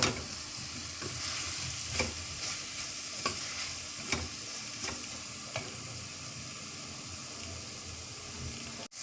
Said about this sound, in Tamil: பெரிய வெங்காயம் 1 நிமிஷம் வதங்கிடுச்சுங்க.